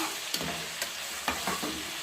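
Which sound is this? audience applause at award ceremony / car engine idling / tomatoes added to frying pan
tomatoes added to frying pan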